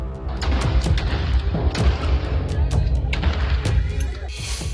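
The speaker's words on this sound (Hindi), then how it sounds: "कभी बच्चों के बीच फायरिंग" Celebratory gunfire at a gathering in Madhya Pradesh: a rapid run of sharp shots and booms goes off over a steady, noisy crowd din, with bursts fairly loud and irregularly spaced throughout.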